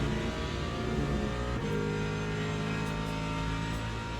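Race car engine in Le Mans Ultimate, running steadily at high revs through a lap with a sustained loud, harmonic drone and a brief dip around a gear change, no talk over it.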